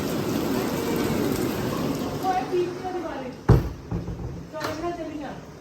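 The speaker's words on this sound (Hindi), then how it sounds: "अभी मेरे को लगा बारिश आने वाली है, बहुत तेज़ आने वाली है और कोई आर्टिफिशियल बारिश नहीं है, ये सब रियल है" Heavy real rain pours steadily outdoors at a home during a storm, a dense continuous hiss with a sharp nearby thump partway through and someone talking over it.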